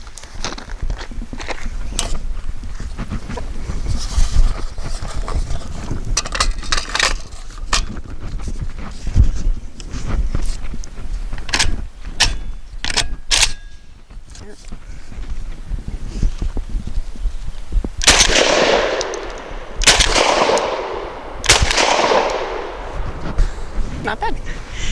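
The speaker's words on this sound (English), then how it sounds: "next up I have Rio's target load, 8 shot, 1 1/8 ounce" A Citadel RS-S1 shotgun fires Rio 8-shot target loads, 1 1/8 ounce, in several sharp, loud reports spaced a few seconds apart, with someone talking between the shots.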